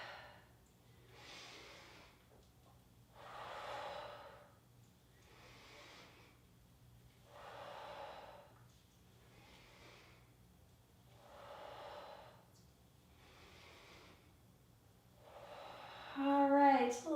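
Slow, breathy exhalations during a yoga flow, repeated about seven times at an even, unhurried rhythm, soft and close, with a brief voiced sound at the end.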